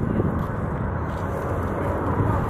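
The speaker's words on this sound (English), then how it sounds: "And that was the sound of four Rolls-Royce Bristol Olympus 202 engines." Avro Vulcan bomber with four Rolls-Royce Bristol Olympus 202 jet engines at an air show, a broad, steady roar that stays loud and constant throughout, sounding distant and unbroken with no voices over it.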